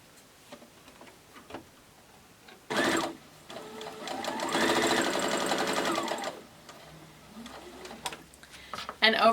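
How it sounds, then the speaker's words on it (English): A sewing machine stitches quilt pieces in one sustained run of rapid needle clatter. Quieter handling noises come before and after it. "I can go ahead and sew this other piece on."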